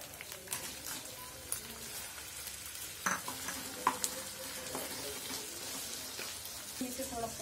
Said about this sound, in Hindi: ये जब थोड़ा सा अपना कलर चेंज कर देगा तब तक हमें इसे फ्राई करना है